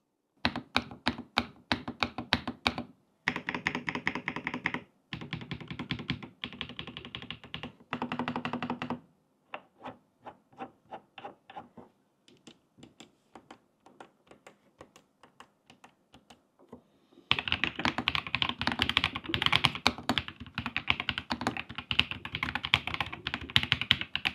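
Typing on a Royal Kludge M70 mechanical keyboard, with bursts of fast, crisp keystrokes up close. The clacking comes in uneven runs with short pauses, and a louder, denser stretch of rapid typing fills the end.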